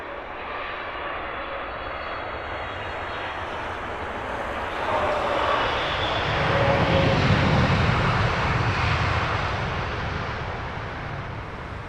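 A LOT Boeing 737 airliner lands at Heathrow, its engines a steady broad roar that swells in the middle of the clip and then eases, heard from a distance with no talk.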